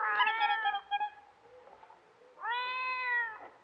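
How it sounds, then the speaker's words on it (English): A kitten gives two meows, the first wavering and the second a higher, steady cry, near and alone in a quiet space. "It's our kitten."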